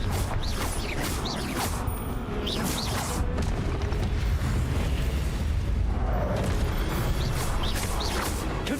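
Blasting spells from the Confringo curse go off in the Hogwarts Legacy game during Percival Rackham's Trial, giving repeated rumbling booms and crackling bursts over a continuous low roar of in-game ambience.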